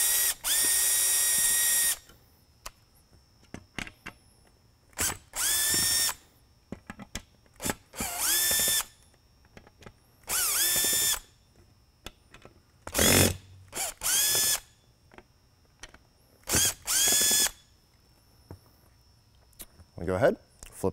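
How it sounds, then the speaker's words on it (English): A power screwdriver takes Phillips head screws out of a Liberty Lightbar corner module, running in repeated whirring bursts of a second or two each with short pauses between them. "The back here, held in with Phillips head screws. Gonna go ahead, get those out of the way"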